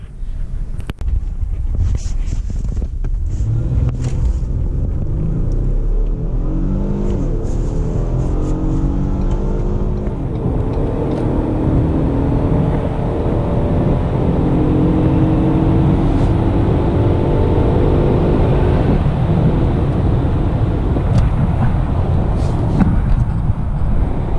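A 2019 Ford Taurus SHO accelerating, heard from inside: the engine's tone climbs steadily under loud wind and road rumble, no voices.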